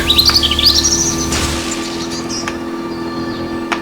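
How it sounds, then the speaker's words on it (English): Birds chirp and tweet loudly in bright, rapid bursts within the forest setting of the rally video game Rallycat: Forest Rally, with a steady engine-like drone underneath and the calls thinning out after the first second or so. "And chirpy birds."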